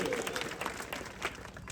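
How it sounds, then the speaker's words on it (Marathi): Crowd applause for a young wrestler at a wrestling event, a brief, fairly faint burst of many hands clapping, steady with a small peak near the end. "टाळ्या करा जरा त्या पोरासाठी"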